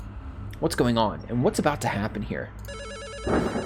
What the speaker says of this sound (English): Another phone call? That sound is beginning to get on my nerves.